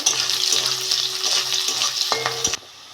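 Onion fried in oil with garlic and dried chillies for kochur loti bhaja, a bright close sizzle with a few stirring scrapes that cuts off abruptly near the end.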